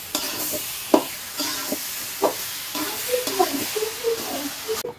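Khichuri with mung dal and chicken giblets being stirred in a pan, soft scraping strokes and a few sharp utensil knocks over a steady low sizzle, close and moderately loud.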